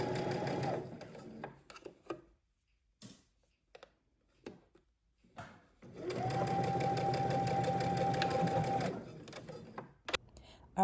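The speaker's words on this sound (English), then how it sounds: "Now stitch across using 5/8 of an inch seam allowance." A sewing machine stitches a 5/8-inch seam on a Simplicity S3140 top in two close bursts of rapid, even whirring, with quiet pauses and brief handling noises between runs.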